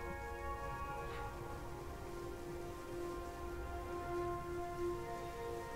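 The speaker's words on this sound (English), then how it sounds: "We've got rain." Rain in Mars Horizon, a faint, even hiss of falling rain running continuously beneath sustained tonal background sounds, with no voices.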